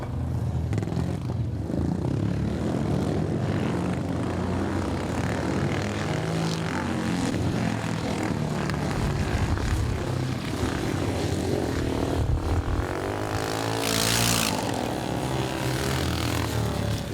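Speedway motorcycles racing the last lap at the Ivor Thomas Memorial Meeting at Sittingbourne, Iwade, a dense continuous engine roar that rises and falls with shifting pitch as the bikes circle the track, loud and constant throughout.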